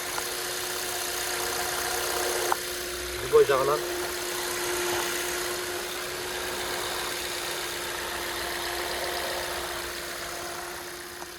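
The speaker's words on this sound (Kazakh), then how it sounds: "Мотордун үнүн жакшылап угуп аласыздар." A gas-powered car engine idling, a steady mid-pitched hum with a constant tone and light vibration heard close up, while someone talks briefly over it.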